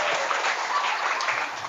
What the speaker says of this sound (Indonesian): Tepuk tangan dulu kira-kira.